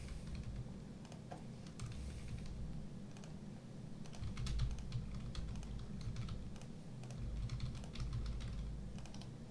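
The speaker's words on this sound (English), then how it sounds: "Just type in random stuff here." Steady, fairly rapid typing on a computer keyboard, keys clicking in irregular bursts at close range with no voices.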